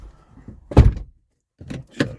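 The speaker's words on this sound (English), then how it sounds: "Alright, let's shut the door." Door of an Audi TT Mk2 car being shut from inside, a solid close thunk followed by a short pause and then a couple of lighter knocks and rattles as it is closed properly.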